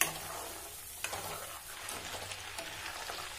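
Cream simmers down in a pan as ghee separates, giving a soft steady bubbling sizzle with occasional faint stirring scrapes, quiet and close, with no voices.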